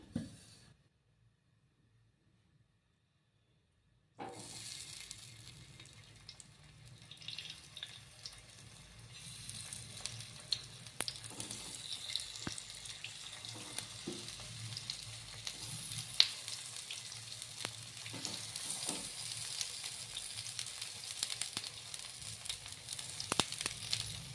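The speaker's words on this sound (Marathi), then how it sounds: "एक पळी तेल टाकलेलं आहे मी थोड्या थोड्या तेलात तळून घ्यायचं" After a few seconds of silence, a steady close sizzle of colocasia leaf rolls shallow frying in a little oil on a griddle begins and continues, with occasional small pops and crackles.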